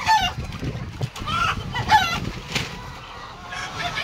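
Sonali desi hens kept for eggs on a poultry farm, clucking and squawking in several short bursts with a rooster-like call, close by, over gusty wind noise.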